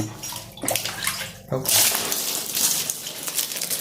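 Water pours and splashes in uneven bursts onto a mushroom cultivation bed, close and fairly loud.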